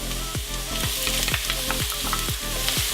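Thin julienned ginger and shallots frying in a pan with garlic, a constant bright sizzle punctuated by regular rhythmic stirring scrapes about every half second, close and loud with no voices.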